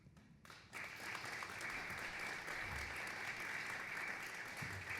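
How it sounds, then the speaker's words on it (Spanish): Audience applause at an architects' association talk about skyscrapers in Monterrey, a steady sustained wash of clapping filling the room after a brief quiet start. "Un aplauso."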